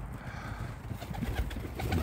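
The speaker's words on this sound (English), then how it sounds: "Yeah, but these are pigeons." Pigeons coo softly inside a loft, low murmuring calls blending with a steady rumble of background noise, with a few faint shuffles and wing sounds near the end.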